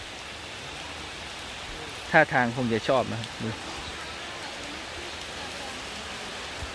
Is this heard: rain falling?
yes